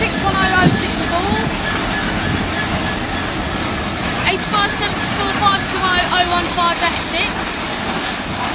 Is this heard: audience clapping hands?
no